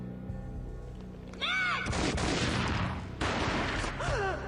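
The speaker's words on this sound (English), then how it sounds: "A gunshot boomed and she fell down in slow motion." Gunfire in the game Max Payne booms out in a rapid burst of heavy shots, loud and close, layered with whooshing effects and a second volley near the end.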